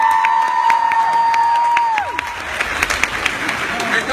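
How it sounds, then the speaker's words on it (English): A convention panel audience at San Diego Comic-Con breaks into applause and cheering over a fading sustained tone, clapping building loud and lively with scattered shouts. "Give Ed a big round of applause"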